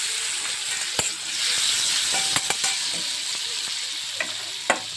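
Onion with a little garlic paste frying in a pan, a steady hiss and sizzle with occasional sharp clicks of stirring, close and loud with no talking.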